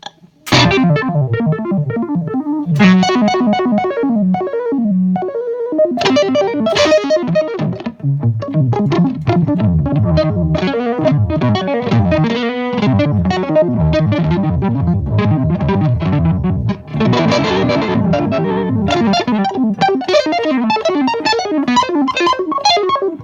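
A guitar runs through an EarthQuaker Devices Arpanoid arpeggiator pedal with the rate turned up, spitting out fast sequenced notes that bounce up in rapid steady patterns, loud and continuous with a gritty edge.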